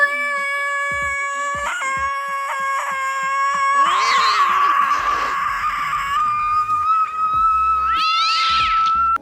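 A cat meows loudly and repeatedly, with drawn-out wavering cries and a couple of strained, yowling calls close by, sounding alone.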